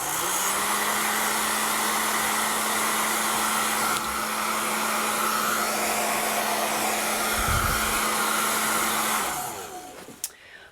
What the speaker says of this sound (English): I'm gonna hit this with my hair dryer